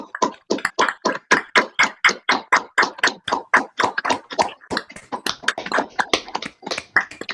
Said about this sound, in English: would you unmute now and give an enormous applause to Adam Horovitz for